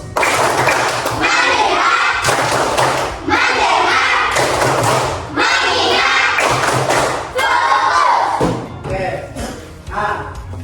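Schoolchildren in a classroom clap in counted groups on a teacher's call, repeated loud bursts of many hands in a steady rhythm, with the teacher's voice and the children chanting between them.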